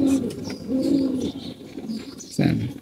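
Breeding pigeons, silver and black pairs, coo in low rolling bursts close by, three or four throaty phrases with brief pauses and faint chirps and background noise between them.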